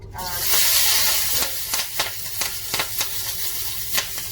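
Cabbage stir-frying in hot oil for a beef stir fry made with dehydrated food, a loud steady sizzle with repeated scraping stirs of the utensil against the pan, close up.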